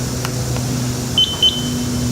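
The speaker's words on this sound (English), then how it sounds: "Then we press the confirmation button." Two short, high electronic beeps sound in quick succession from a car calibration device as its confirmation button is pressed, standing out clearly against a steady low hum in the background.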